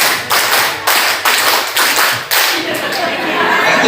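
Teachers at a school workshop clap a rhythmic five-beat pattern, crisp evenly spaced claps in a steady pulse, close and loud, with some chatter and voices underneath.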